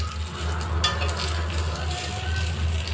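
Spices frying in a pan for a masaledar besan dish with capsicum, a steady close sizzle with soft scraping stir strokes running throughout.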